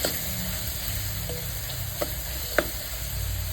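Garam masala and turmeric stirred into a little hot oil in a pan, a low continuous sizzle with a few light spoon taps against the pan.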